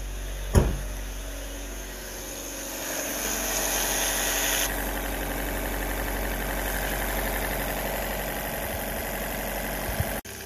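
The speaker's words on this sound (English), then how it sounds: "I want to put this thing under load, even though it's idling smooth." A Fiat car engine idles smoothly and steadily close by, a constant low hum with a faint rattle and a brief knock near the start, no talking.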